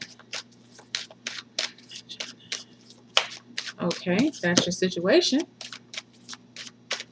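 Crisp, rapid card riffles in short bursts, with a person speaking briefly in the middle.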